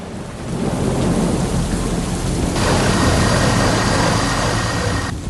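Heavy rain pouring steadily during a violent thunderstorm, a dense loud hiss with a low rumble of thunder beneath, continuous and close with no voices.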